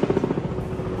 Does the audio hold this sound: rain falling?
no